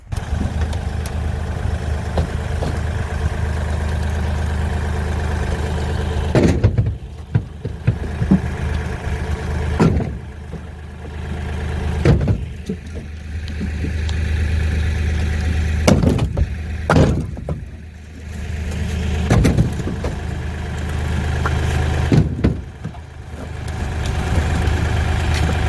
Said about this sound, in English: You can just watch me working the tractor and getting this truck loaded up for a delivery.